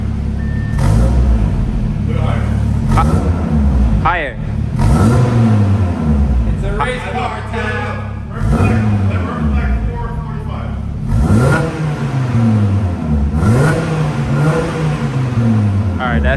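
An Audi TT RS five-cylinder engine with a titanium exhaust, valves closed, revs repeatedly in loud, rising bursts, close by, with voices faintly mixed in between the revs.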